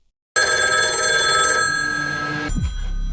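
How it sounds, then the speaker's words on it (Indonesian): A telephone bell rings loudly and continuously for about two seconds, then cuts off sharply into a brief low thud and silence. "langsung kepotong oleh dering telepon yang nyaring"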